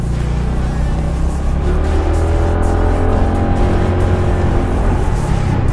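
An inexpensive FKM scooter rides over sandy, rocky ground, its engine a loud, continuous close-up drone whose pitch slowly climbs and wavers as the throttle shifts, with no talking.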